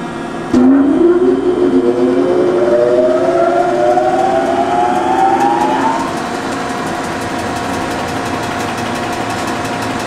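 A 1983 Cincinnati Milacron Model 220 centerless grinder starts its grinding wheel with a sudden loud onset, followed by a rising whine that climbs in pitch for several seconds before levelling into a steady motor hum beside the running regulating wheel.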